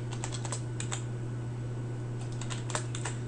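Computer keyboard typing while code is entered, with quick irregular clusters of crisp key clicks over a steady low electrical hum and no talking.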